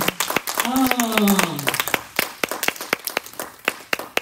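Church congregation clapping and cheering in praise of the Lord, with a raised voice calling out over it, followed by rapid irregular applause and scattered claps, loud and close.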